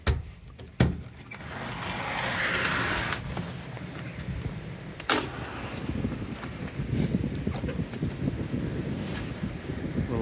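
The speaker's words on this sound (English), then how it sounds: "Windy." Gusty wind roars outdoors on a snowy winter night, a steady rushing with a low rumble buffeting the microphone and a couple of sharp bumps.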